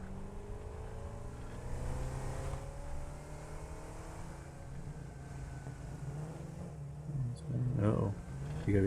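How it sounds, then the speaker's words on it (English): A vehicle drives in the video game Satisfactory, its engine tone climbing and falling in steady sweeps under near-continuous talking, ending in a louder revving burst. "gotta be careful driving up this though."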